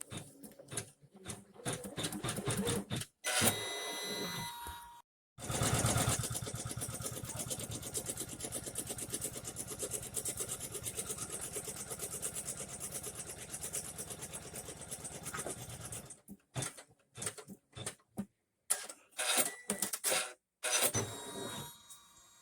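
An embroidery machine sews a placement stitch through tearaway stabilizer, holding a steady close mechanical whir for about ten seconds. Shorter bursts of stitching come before and after, broken by pauses.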